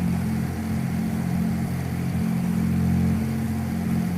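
The twin-engine Beechcraft Baron B58 in Flight Simulator X holds a steady, loud, droning engine hum with a tonal buzz that builds slightly in power, with no talking.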